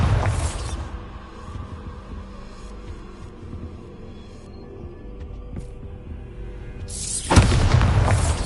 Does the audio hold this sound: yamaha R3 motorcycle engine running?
no